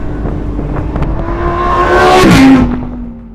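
A green Lamborghini Huracan Tecnica on Bridgestone Potenza sport tyres drives by on a road, its engine note rising loudly and sweeping down in pitch as it passes close, then fading.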